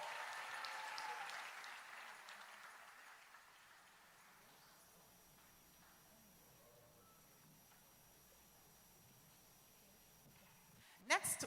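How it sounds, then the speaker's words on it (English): An audience at a church convention applauding a country delegation as it stands, a broad wash of clapping at the start that fades into quiet room noise, ending with a brief handling bump. "We applaud for Puerto Rico."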